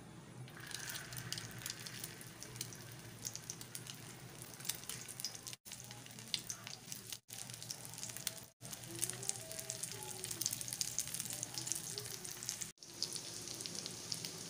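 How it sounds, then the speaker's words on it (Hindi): Egg-coated chicken kebabs fry in hot oil with a steady, dense sizzle and crackle that runs throughout, briefly cutting out a few times. "इसी से हम अपने 7-8 कबाब फ्राई कर सकते हैं।"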